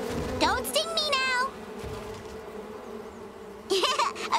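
Bees buzz in an animated children's cartoon, a soft steady drone beneath brief bursts of cartoon voices at the start and end.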